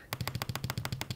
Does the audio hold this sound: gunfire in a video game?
yes